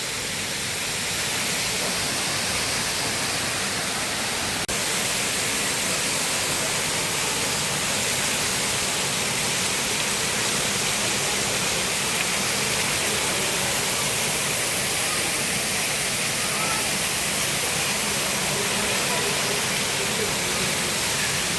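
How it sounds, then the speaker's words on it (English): Steady, dense rushing water roars continuously at close range, a broad unbroken wash like a waterfall in the Rock Garden of Chandigarh, with no pauses throughout. "we can see that here a lot of waterfalls"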